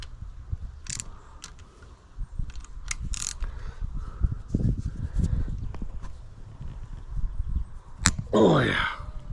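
A wrench works a very tight bolt on a bike, with scattered close clicks, ratcheting and metallic knocks over a low background, and a brief voice near the end.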